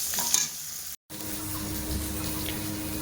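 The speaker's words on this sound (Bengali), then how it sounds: "দেখতেই পাচ্ছি তেলের মধ্যে দিয়ে দিয়েছি বরবটিগুলো" Yardlong beans fry in hot oil in a home kitchen, giving a steady close sizzle and bubbling hiss, interrupted by a brief moment of silence near the start.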